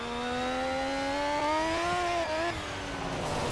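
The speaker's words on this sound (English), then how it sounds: "That rotary sound, yeah." A rotary-engined car in the racing game Project Cars revs up, its smooth buzzing engine note climbing steadily in pitch, dipping briefly, then rising again before easing off, loud and close with no talk.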